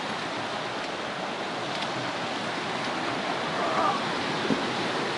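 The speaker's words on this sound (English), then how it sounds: "Still quite a bit of water moving down this stream." A stream carrying plenty of water flows along a coast-to-coast walking route, a steady broadband rushing wash that holds close and even throughout, swelling slightly toward the end.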